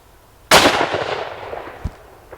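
A single sharp, loud gunshot from a Merkel double rifle fired outdoors, with a long fading echo and a faint thump shortly after.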